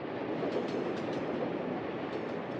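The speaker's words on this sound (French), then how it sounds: "Des trains bondés quadrillent le territoire de l'URSS au lendemain de la Seconde Guerre mondiale." Crowded trains on rails in the Soviet Union just after the Second World War: a steady, loud rolling rumble with a faint clickety-clack of wheels, continuous and unbroken, with no voices.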